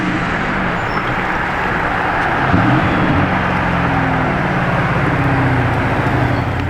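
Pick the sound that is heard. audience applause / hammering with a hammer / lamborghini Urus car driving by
lamborghini Urus car driving by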